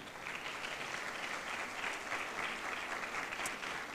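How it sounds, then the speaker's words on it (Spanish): Crowd applause at the grand final of a Mexicana Universal Jalisco beauty pageant, a continuous wash of clapping from a large audience, fairly distant and even, with no talk. "Fuerte el aplauso también."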